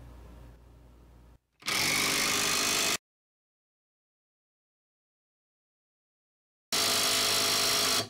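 A Hyper Tough 20V brushless impact wrench spins on a dyno test rig in two loud bursts, each about a second and a half of intense, buzzing whine. A silent gap separates the bursts, and a quieter hum comes before the first.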